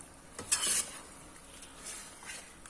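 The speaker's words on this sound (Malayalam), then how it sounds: "ഈ കുറുകി വന്ന ഗ്രേവിയിലേക്ക് നമ്മുടെ ചിക്കൻ ഇട്ട് കൊടുക്കുകയാണ്" Chicken pieces going into a thickened tamarind and jaggery gravy in a pan, with a brief sizzle and scraping stir up front, then quieter soft stirring, faint and close with no talking.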